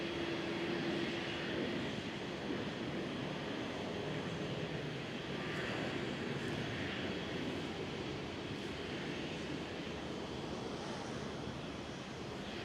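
A distant Airbus A320 airliner at Schiphol gives a faint, steady broadband engine rush, like wind or surf, with a brief low hum at the start.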